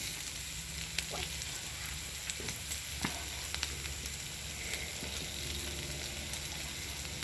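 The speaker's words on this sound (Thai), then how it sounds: "หมูกระทะเราร้อนๆยั่วๆเลยจ้า" Pork belly sizzling on a hot Thai mookata grill-pot at an outdoor meal beside rice fields, a steady, fairly quiet crackling hiss with occasional sharp pops, continuing without talking.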